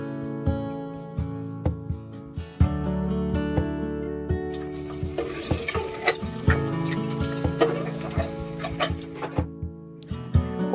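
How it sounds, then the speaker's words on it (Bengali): Boiled eggs frying in the same hot oil with a little salt and turmeric, giving a steady close sizzle broken by stirring clicks and scrapes of a spatula in the pan. "ওই তেলেই ডিমগুলো সামান্য নুন আর সামান্য হলুদ দিয়ে হালকা হালকা করে ভেজে নেব।"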